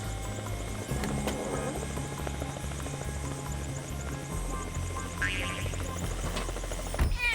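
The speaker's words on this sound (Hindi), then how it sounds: "मालूम है उबैद, मुझे भी यकीन नहीं होता कि ये बिल्ली हेलीकॉप्टर में घुस गई।" Steady rhythmic thumping of helicopter rotors, continuous and fairly close, with music underneath and a brief high meow-like sound.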